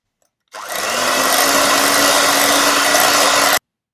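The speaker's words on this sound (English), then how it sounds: "I'm going to start by beating the softened butter." An electric mixer beats softened butter with a loud, steady whir that starts abruptly, holds evenly for about three seconds, then cuts off cleanly.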